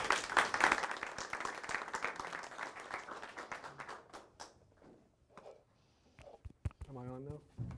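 An audience claps in welcome for lecturer Thomas Jackson at the Hopes 24 event, dense applause that is strongest at first and thins to scattered claps, with a voice speaking at the end.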